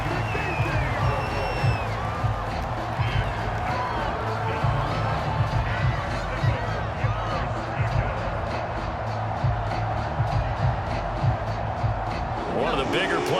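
Stadium crowd noise from a Chargers at Bears football video game plays as a steady, loud roar with swelling cheers throughout, continuing under commentary.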